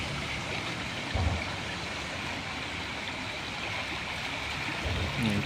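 Floodwater flows through an orchard in a steady, continuous rushing wash with no break.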